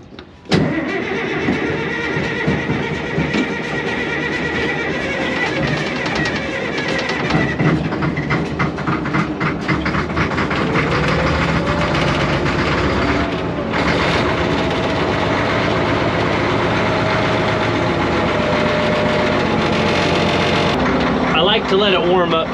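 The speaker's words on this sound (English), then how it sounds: "To let it warm up for a bit. It's old engine." An old engine cranks and catches, then settles into a loud, steady idle that rumbles on without a break to warm up, with a person talking over it.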